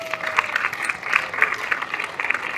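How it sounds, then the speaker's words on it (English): An audience applauding at a live community event, a short burst of scattered hand clapping heard from a distance, fairly faint and thin. "A round of applause, everyone."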